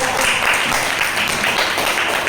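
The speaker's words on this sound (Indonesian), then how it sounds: "Tepuk tangan dulu anak yang paling tinggi" Schoolchildren clap their hands for the tallest child in the class, a dense, steady burst of many small hands clapping together at close range.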